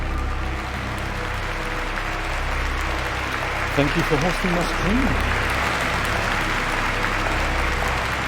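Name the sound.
applause sound effect from stream alert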